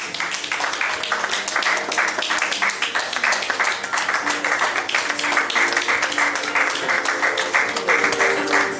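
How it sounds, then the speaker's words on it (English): Audience at a corporate event clapping as a guest comes forward, a steady, fairly loud patter of many hands with distinct individual claps over continuous room noise. "Please clap for him as he's coming."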